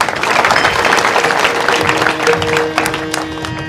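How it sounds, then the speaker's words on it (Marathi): Listeners at a Marathi kirtan gathering clap in a loud, continuous round of applause that holds steady and then thins slightly toward the end, with a sustained tone running beneath it. "त्यांच्याकरता खरोखर जोरात टाळ्या व्हायला"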